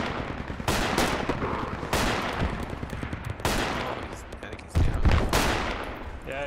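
Gunfire from a Project Reality battle: repeated bursts of automatic rifle and machine gun fire crackle over a rumbling backdrop, with a heavier close shot near the end and faint voices in the mix.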